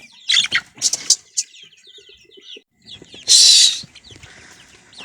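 Short bursts of calls and chirps from young Tiger chickens, about forty days old, ring out between quiet gaps, with a louder squawk partway through.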